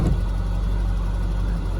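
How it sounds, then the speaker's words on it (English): A 1987 Corvette barn find, revived after 26 years of storage, settles into a steady, smooth idle with a continuous low engine rumble close by and no voices. "Fires right off to a perfect idle."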